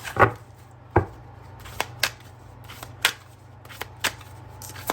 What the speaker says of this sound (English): I'm going to go ahead and grab a second focus card from the Relationship Design Cards by Sister Moon Tarot